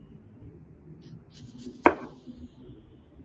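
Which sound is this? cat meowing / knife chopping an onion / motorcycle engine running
knife chopping an onion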